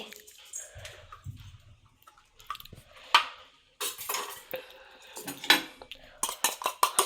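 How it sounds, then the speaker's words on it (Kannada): Egg beaten in a bowl with a spoon or fork for a homemade egg roll, seasoned with turmeric, chili and pepper, making quick rhythmic clinks and scrapes against the dish that speed up into a rapid burst near the end. "ಸೊ ಒಂದು ಎಗ್ ಹೊಡ್ಕೊಳ್ತಾ ಇದ್ದೀನಿ"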